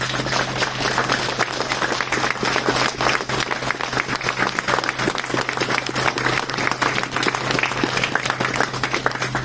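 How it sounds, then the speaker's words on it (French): An audience applauds during a speech at a company's twentieth-anniversary event, giving sustained, dense clapping at a steady, fairly loud level over a low steady hum. "en l'applaudissant, s'il vous plaît"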